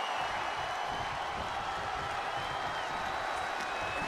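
A virtual arena crowd roars in WWE 2K23 during a women's match, a dense, constant wash of cheering and crowd noise that holds steady throughout with no clear individual voices.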